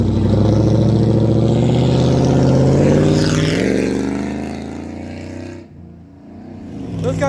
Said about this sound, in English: Pretty sure they were revving up just to be jerks